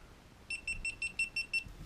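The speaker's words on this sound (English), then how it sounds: "push and hold your Bluetooth till it beeps a bunch of times" Quick run of seven short, evenly spaced high beeps from a GoPro Hero 3 Black camera as its Bluetooth is switched off, close and clear over a quiet background.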